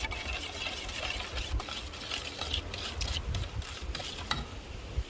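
Banana bread batter being stirred in a Dutch oven, a steady close scraping and churning with rhythmic mechanical clicks, continuous and fairly loud throughout with no talking.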